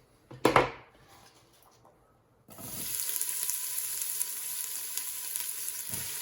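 Diced onion hits hot avocado oil in a pan for habanero hot sauce: a sharp clatter, a brief quiet, then a steady, bright sizzle that runs continuously, with a soft knock near the end.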